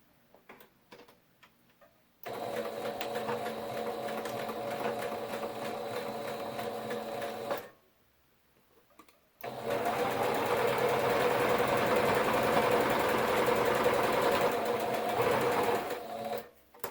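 A sewing machine stitches slippery, silky fabric for a bubble quilt, running in two long steady bursts with a rapid mechanical ticking rhythm, separated by a short pause, close and fairly loud with no talking.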